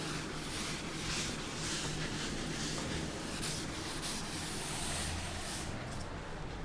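Writing being rubbed off a classroom board with steady, loud, close scrubbing strokes that form a continuous rough hiss, fading slightly in the final second.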